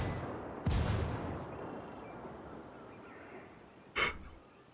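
A mortar strike lands during a Ghost War match, a sudden loud boom with a long decaying rumble, followed a few seconds later by a second, shorter sharp blast.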